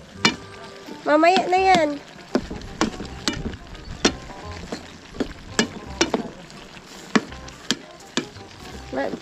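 Eggplant fries in a hot pan with a steady close sizzle, broken by sharp scraping and tapping clicks from stirring. A voice speaks briefly near the start.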